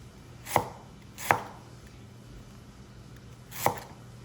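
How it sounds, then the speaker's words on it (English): A knife cuts through beetroot on a cutting board in a home kitchen, three sharp, close thuds spaced irregularly against a quiet background. "I'm also cutting the beet root into half leaves"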